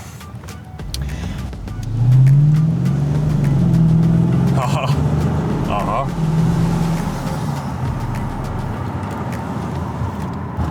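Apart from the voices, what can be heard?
Lexus LS460 V8 engine sound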